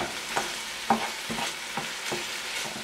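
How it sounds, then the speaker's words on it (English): Ground beef sizzles and fries steadily in a pan, with a few soft stirring scrapes over the continuous crackle, close and moderately loud. "as soon as this ground beef is cooked"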